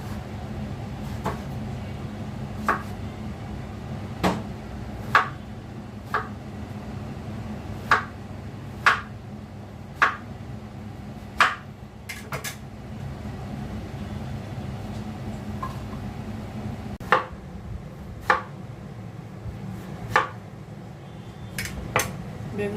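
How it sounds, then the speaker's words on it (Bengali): A knife chops an eggplant into small pieces on a board, with sharp, evenly spaced taps repeating every second or so over a low steady background hum, close and fairly clear, with no talk. "বেগুনটা কেটে নিচ্ছি।"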